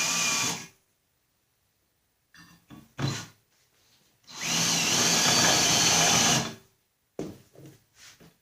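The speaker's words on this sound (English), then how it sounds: "We're going to drill down this hole and we're going to put a dimple in the crankshaft." A 1/4-inch power drill boring a dimple into a crankshaft through a hole, running in two bursts, a short one and a longer steady whir, with brief clicks and handling noise between.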